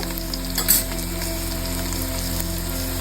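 Onions frying in oil for Nellore-style chicken pulao, a steady close sizzle with faint crackles, one brief stir or clatter near the start, no voices.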